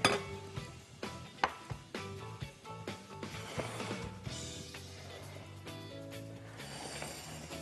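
A bowl is handled while making a cream caramel cake: sharp clinks and knocks of kitchenware ring out at irregular intervals early on, then give way to quieter, softer handling sounds.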